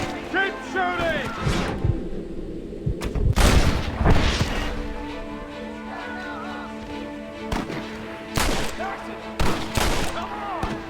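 Gunfire rings out in Red Dead Redemption, with loud, sharp shots landing in irregular bursts and several heavy booming hits. Music plays behind the shots, and a voice is heard shouting in between.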